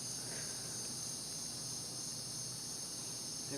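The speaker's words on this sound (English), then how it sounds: "Sit outside and listen to the bugs." Crickets and other insects chirping outdoors in a backyard patio at night, a dense, steady high-pitched trill, faint and continuous with no voices.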